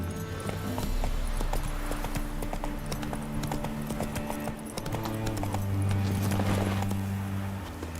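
Horse galloping in The Witcher 3 video game, steady rapid clip-clop hoofbeats under a low game music drone, fairly close and moderately loud throughout.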